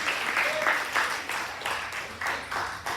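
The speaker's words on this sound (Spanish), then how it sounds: "Alguien le da ese aplauso al Rey de la Gloria," A congregation at a Spanish-language church service claps together in a loud, rhythmic, steady beat, with faint voices mixed into the clapping.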